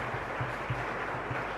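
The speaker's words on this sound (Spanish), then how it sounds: "Fuerte aplauso para el Señor." Congregation applause at the close of a Good Shepherd Sunday Mass in the Caacupemi chapel, a steady wash of clapping with soft rhythmic low thumps pulsing through it at a moderate distance.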